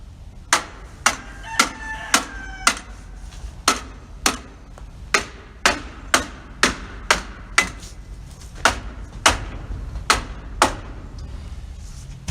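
Sharp, evenly spaced hammer blows ring out as sheathing is nailed onto a chicken coop wall outdoors, around twenty loud close strikes in a steady rhythm with short pauses.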